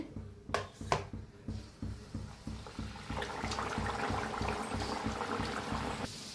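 Rolled jaggery and banana puris fry in hot oil, a steady bubbling sizzle that swells louder partway through, preceded by a couple of sharp clinks and rhythmic low thumps.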